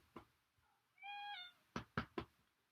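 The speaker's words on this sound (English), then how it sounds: "Sorry, that's my cat." A house cat gives one clear, drawn-out meow at close range, followed by three sharp knocks or thumps in quick succession in a quiet room.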